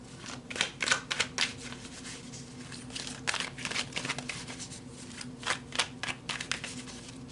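A deck of tarot cards shuffled steadily by hand, with repeated riffling bursts and crisp flicks in quick clusters, close and fairly loud, with no talking.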